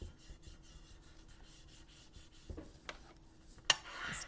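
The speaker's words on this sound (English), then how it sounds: "Spreading that glue out." Glue being spread across card with a tool while making a handmade angled card, heard as quiet soft rubbing and scraping strokes, close up, with a few sharper scuffs near the end.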